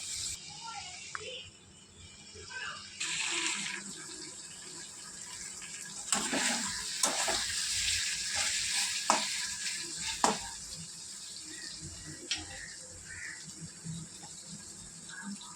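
Mustard paste sizzles in a pan with ash gourd on low gas while a utensil stirs it, sending out scraping bursts and sharp clinks over a soft, continuous frying hiss, fairly close and without speech.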